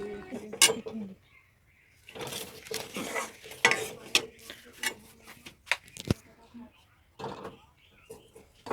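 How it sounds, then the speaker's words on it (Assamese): Semolina roasts in a pan and is stirred for a sweet offering, with a soft sizzle and scraping strokes at close range that come and go; a voice speaks briefly over the cooking. "চুজিখিনি এতিয়া অলপ টাইম ভাজি থাকিব, যেতিয়ালৈকে অলপ ৰঙা নহয়।"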